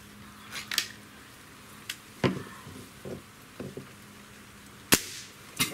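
A Walther Parrus .22 caliber air rifle fires once with a sharp, loud crack, set among a few softer clicks and handling knocks in a quiet room, with no talking.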